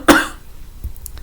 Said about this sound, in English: Still a bit of a tickly cough, which is annoying.